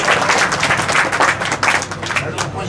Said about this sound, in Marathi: टाळ्या वाजवा की टाळ्या वाजवा